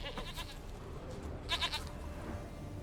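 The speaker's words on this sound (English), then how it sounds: "Here, goat." A goat in The Witcher 3: Wild Hunt bleats twice, a short nasal call early and a louder wavering bleat midway, over a quiet outdoor ambience.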